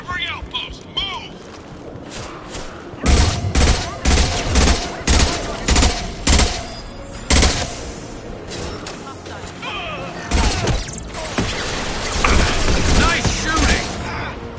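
Rapid bursts of automatic gunfire and mechanical weapon clatter in Mass Effect Legendary Edition, loud and repeated over several seconds, with game voices speaking.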